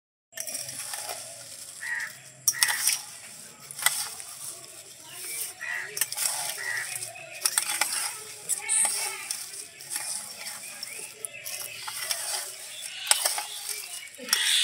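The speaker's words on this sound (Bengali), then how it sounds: "এবারে সব উপকরণ আমি মিশিয়ে নেবো ভালো করে।" Dry flattened rice (chira) snack ingredients get tossed and stirred in a bowl, making repeated close, crisp rattling clinks and scrapes in uneven bursts, with soft talk around them.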